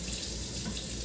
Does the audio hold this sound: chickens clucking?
no